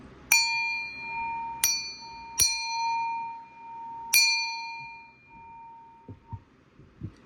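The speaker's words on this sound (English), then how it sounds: "I'm going to go ahead and ring the bell 3 times" A small bell strikes four clear, ringing tones at irregular intervals, each one bright and slowly decaying, near and alone in a quiet room, followed by a few soft handling knocks.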